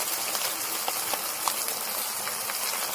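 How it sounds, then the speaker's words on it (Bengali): Pieces of carp frying in hot oil in a wok: a steady close sizzle with scattered small crackles and pops, no voices. "কড়াটা গরম করে মাছটা ভাজতে বসেছি"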